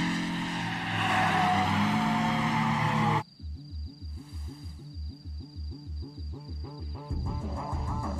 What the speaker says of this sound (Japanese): うめえな、レッドサンズのドリフト。